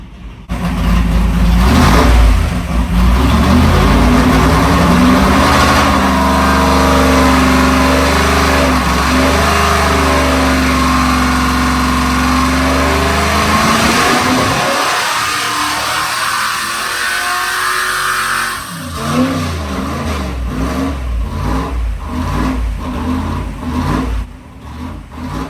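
A car engine on a dyno for its first pull, run on gas during break-in, revs loudly and steadily for about fifteen seconds, then drops off and settles into a rough, lumpy idle.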